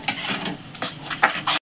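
Ground snake gourd paste with black cumin seed, green chili, salt and sugar fries in hot oil, a close sizzle broken by a few bursts of stirring and clinking pan sounds before cutting off.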